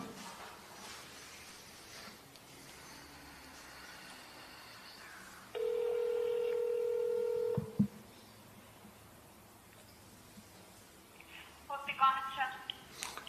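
A phone on speakerphone places a call, with a steady electronic tone lasting about two seconds, then short beeping tones near the end, over a faint background of room noise and distant voices.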